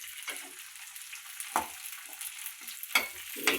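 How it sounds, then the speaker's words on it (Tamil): Grated coconut is stirred and fried in a pan for moong dal payasam, giving a faint, steady sizzle broken by a few sharp scraping stirs of the spoon at irregular intervals. "தேங்காய் வறுக"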